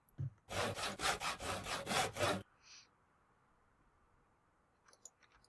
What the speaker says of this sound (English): the zombies are going to hear the sawing and the hammering and all the rest of it